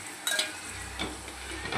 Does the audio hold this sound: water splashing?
no